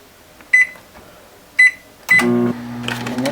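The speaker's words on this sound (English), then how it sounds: "I'm just gonna pop it in the microwave for 20 seconds." Microwave oven heating a migraine and sinus heat pack: two short beeps from the control panel, then a door thunk and a steady hum as the oven starts running, close and fairly loud.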